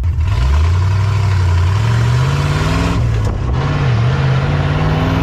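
A 1981 Series Land Rover tow truck fitted with a 3.5 Rover V8 from a Defender runs close and loud, its engine note rising and falling as it revs.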